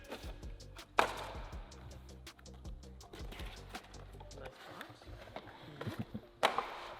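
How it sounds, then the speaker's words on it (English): A Syvecs all-wheel drive controller unit for a GR Corolla being unboxed: quiet handling clatter, knocks and rustles, with a couple of sharper clicks, close by and otherwise still. "we're going to start off with the unboxing of the Syvecs unit"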